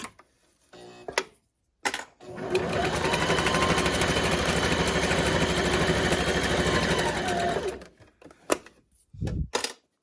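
A sewing machine stitches fabric for a reusable shopping tote. It runs in one steady, loud whirring burst of about six seconds, with a few short clicks and brief starts before and after.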